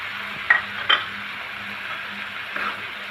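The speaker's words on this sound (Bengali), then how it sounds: "আমি মশলার সাথে কষিয়ে নেব চিংড়ি মাছটা ভালো করে।" Shrimp frying in a pan with spices and onion, giving a steady close sizzle broken by a few scraping stirs of a spatula, no talk.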